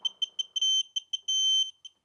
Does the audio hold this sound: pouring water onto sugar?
no